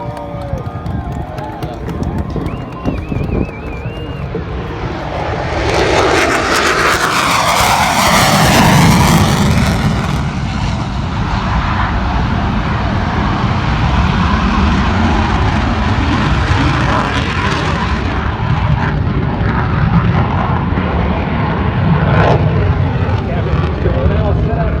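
An F-16 Fighting Falcon fighter jet flies over the Oshkosh airshow in Wisconsin, its roar rising sharply and then holding loud and broad for the rest of the pass, with crowd and announcer noise mixed underneath.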